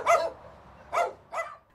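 Dogs rescued from dog meat farms and bound for new owners in Britain and the US bark three times in short, sharp bursts, the first the loudest, with quiet gaps between them and no talking.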